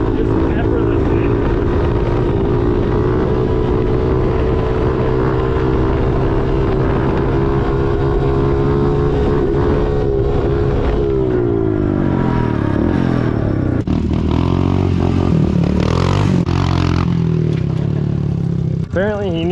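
A Honda CRF110 big bore dirt bike is ridden, its engine droning loudly and steadily, then shifting pitch and revving up and down toward the end, with wind rush throughout.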